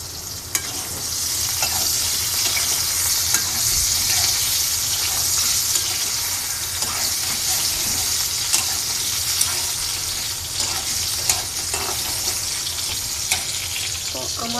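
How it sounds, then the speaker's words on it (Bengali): Potatoes fry lightly in a pan with a loud continuous sizzle, while a spatula stirs them with scraping and occasional clacks; no speech is heard. "আমি আলুটা হালকা ভেজে নিচ্ছি"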